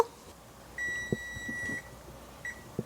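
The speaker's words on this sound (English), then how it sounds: "That was my pasta timer." An electronic pasta timer gives a long, high steady beep, then a shorter one, with light clatter and knocks of kitchen work around it.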